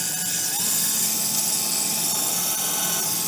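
A Lyman case trimmer chamfers a cartridge case, giving a continuous high-pitched motorized whir with a steady grinding hiss, close and constant throughout.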